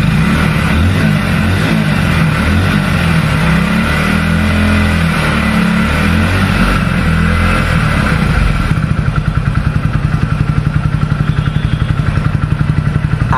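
A 100cc Hero or Bajaj commuter motorcycle runs loud and close, its engine revving in a rough, throbbing exhaust note before settling into a steady, rapid putter at idle.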